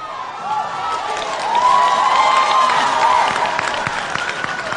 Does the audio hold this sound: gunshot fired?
no